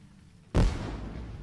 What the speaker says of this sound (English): Oh, who's setting up fireworks?